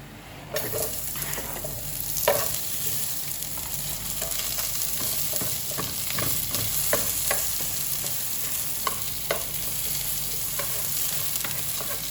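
Sliced onions frying and sizzling in a pan while pork adobo is cooked, with steady crackling and occasional utensil stirring scrapes, close and continuous with no talk.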